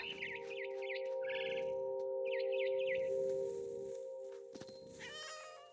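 A cat in the video game What Remains of Edith Finch gives a series of short chirping meows in quick bursts over a steady droning game soundtrack, with no talking.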